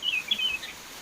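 A wild-caught white-rumped shama gives a brief, high, clear whistled phrase, close and fairly loud, over faint background hiss.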